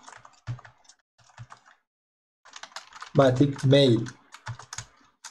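Typing on a computer keyboard while setting up scheduled automatic emails in Google Sheets, with scattered soft key clicks in short bursts and someone speaking partway through.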